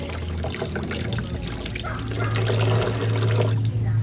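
A cleaned turkey being washed with salt and water while preparing lechon pabo, with steady trickling and splashing water close by, like running tap water over the bird.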